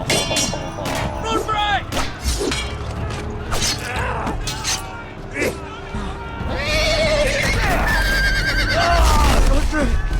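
A horse in a Game of Thrones video game whinnies loudly in a high, wavering neigh near the end, after clattering mechanical game sounds and creaks, with a voice talking over parts of it.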